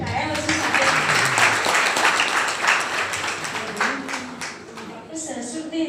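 Audience applause at a Marathi award ceremony, a sustained wash of clapping that swells and fades while a voice speaks over it near the microphone.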